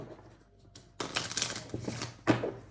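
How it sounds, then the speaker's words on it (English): A deck of tarot cards being shuffled, starting after a quiet moment with a run of rapid papery riffling and flicking, then a sharp final burst, close and fairly soft. "Shuffling for Capricorn for the month of May."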